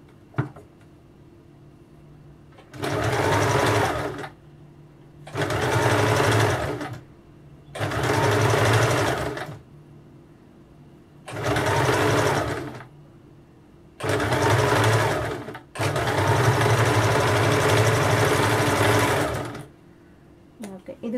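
Sewing machine stitching a blouse runs in six bursts of steady whirring, the last and longest lasting about four seconds, separated by short quiet pauses. The motor sounds close and fairly loud.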